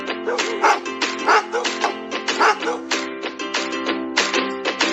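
A dog barks repeatedly in a steady series of yips and woofs, close and loud, over a constant background hum.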